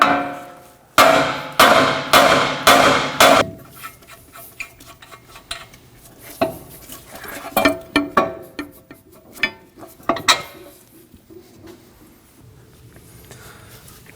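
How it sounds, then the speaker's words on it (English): A hammer strikes the steering knuckle by the outer tie rod on a 2016-2022 Honda Pilot, five loud, close metallic blows in quick succession, then scattered quieter clanks and tool handling. "Now we're going to strike the knuckle right on the end here by the tie rod using a hammer."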